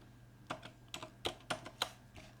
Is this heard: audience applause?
no